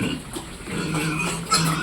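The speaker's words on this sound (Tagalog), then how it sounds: "Yan ang mga baboy natin mga pigi." Pigs eat noisily at a trough, slurping broth with wet snuffling and smacking close by, a brief steady feeding sound without talk.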